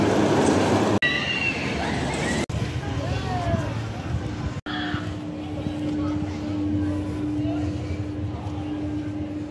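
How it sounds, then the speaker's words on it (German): Flug der Dämonen roller coaster climbing its lift hill at Heide Park Soltau: a steady mechanical drone and hum rises over busy amusement-park ambience, with a few sharp clicks early on and faint voices in the background. "Hier fährt auch Flug der Dämonen gerade hoch"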